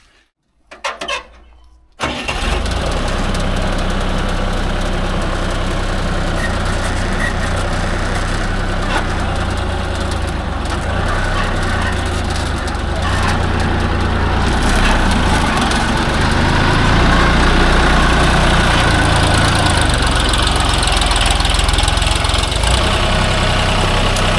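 A tractor engine idles steadily at close range after a short start-up burst, its low rumble holding loud and constant at a fuel stop while refueling.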